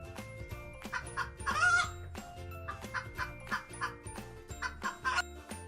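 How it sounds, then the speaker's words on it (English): Repeated short clucks and squawks from chickens, close by, over a steady low background hum, with one louder squawk near the middle. "H for hen. HEN hen."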